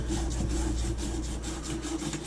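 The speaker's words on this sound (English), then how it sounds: "We sand this real good." A plumbing pipe joint is sanded by hand at a toilet valve install in an old apartment, a close, steady scratchy rubbing with quick repeated strokes over a constant low hum.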